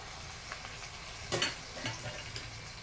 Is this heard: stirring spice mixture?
yes